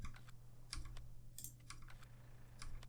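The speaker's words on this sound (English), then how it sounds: "hitting all the wrong keys" Quick keystrokes clatter in short irregular bursts on a computer keyboard while playing Farming Simulator 19, soft and close over a steady low engine hum from the game.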